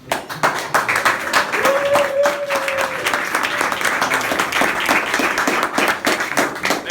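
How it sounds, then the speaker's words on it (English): Studio audience applauds for a full stretch, dense steady clapping from many hands at fairly close range, with a brief voice tone rising out of the crowd partway through. "stand and applaud for The Bachelor's unwavering commitment to true love"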